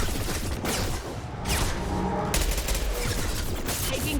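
Rapid gunfire fills a Mass Effect 2 battle, dense overlapping shots and bursts with a brief lull, loud and close, with a whooshing effect and no clear talk.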